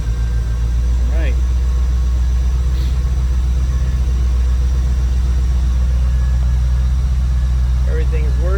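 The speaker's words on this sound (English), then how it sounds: "Car started right up." A 1996 Corvette engine idling steadily after starting, a loud, constant low rumble close to the microphone with a few faint chirps on top.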